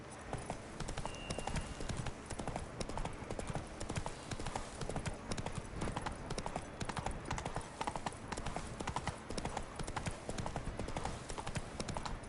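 Horse Roach's hooves clip-clop steadily and close in The Witcher 3, a fast, even rhythm of hoof strikes running throughout over a low background bed of game ambience.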